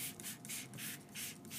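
Hand spray bottle misting water over marker-colored fabric for a tie-dye effect: a run of repeated short hissing bursts in a steady rhythm, close and fairly loud, with no talking.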